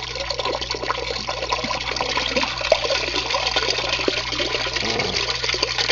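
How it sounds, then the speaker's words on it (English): Water drains out of an indoor aquaponics grow bed through a J-siphon, a steady close rushing gurgle that runs on without a break, with no voices. "the water will continue to drain out of here"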